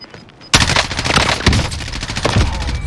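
Automatic gunfire in Call of Duty Warzone erupts suddenly after a quiet moment, a loud, close, rapid stream of shots that continues to the end.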